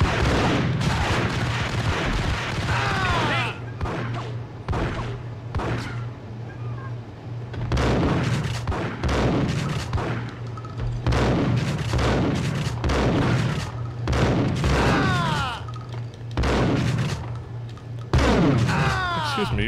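Gunfire in the Max Payne video game on PS2, repeated loud sharp shots and bursts with ringing echoes in quick irregular clusters, broken by brief lulls, over a constant low hum.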